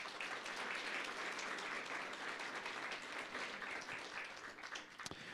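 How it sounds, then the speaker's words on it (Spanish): Congregation at a Sunday church service applauding, sustained dense clapping from a full room, steady and moderately distant, tapering slightly toward the end. "Una vez más vamos a dar, por favor, fuertes aplausos."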